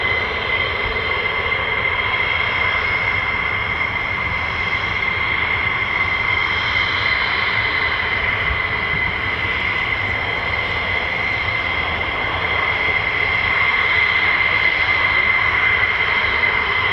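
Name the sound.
F-15 and F-35 fighter jets taxiing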